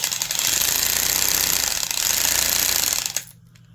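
A Porter Cable 2621 carpenter's drill with a spring-loaded keyless chuck runs as the chuck is tightened. It makes a loud, steady, rattling impact-like buzz for about three seconds and then cuts off abruptly.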